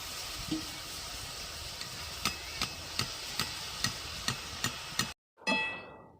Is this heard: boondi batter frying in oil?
yes